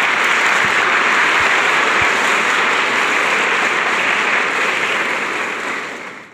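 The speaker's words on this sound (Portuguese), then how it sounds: "Aplauda, aplauda Jesus." A church congregation applauds during a Lent sermon, a dense, steady wash of clapping that holds strongly throughout and tapers away at the end.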